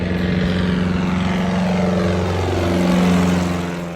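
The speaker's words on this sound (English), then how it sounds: "we saw bush planes taking off from the water" A propeller plane roars steadily nearby, its engine droning with a pulsing buzz that swells louder toward the end as it takes off.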